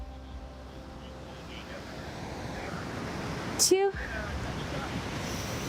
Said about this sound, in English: Just letting the waves relax you.